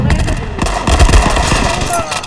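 Rapid automatic gunfire in a World War 2 video game, loud close bursts of shots in quick succession that end in a headshot, with a voice speaking over the shooting.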